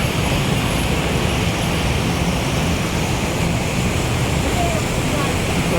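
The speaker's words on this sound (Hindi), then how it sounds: "झरना बह रहा है नव" Water rushes down a waterfall beside the mountain trail on the Kedarnath trek, a dense, unbroken roar that stays loud and even throughout.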